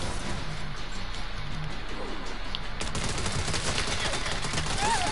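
Rapid video game gunfire from Saints Row, a dense continuous volley of automatic shots under a constant loud mix, with a sharper burst of fire in the second half.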